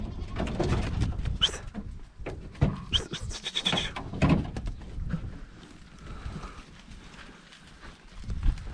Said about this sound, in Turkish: Evet Ömer abinin keçilerle beraber karıştılar